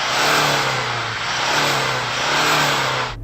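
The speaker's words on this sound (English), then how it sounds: "Go on, Toyota, rev up your diesel." A Toyota Land Cruiser's 2.8-litre four-cylinder turbo diesel revs hard and close, holding a steady rattly drone with a couple of rising and falling swells before cutting off abruptly at the end.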